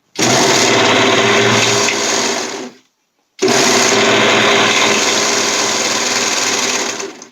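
A sewing machine stitching a seam on a Magnolia romper runs loud and steady in two long bursts, with a brief pause between them.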